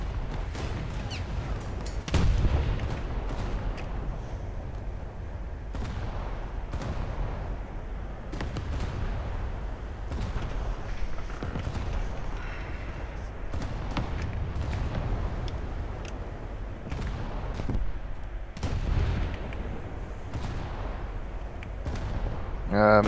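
Naval guns firing in a War Thunder battle, a dense stream of booming shots and blasts over continuous rumbling, with someone talking over the gunfire.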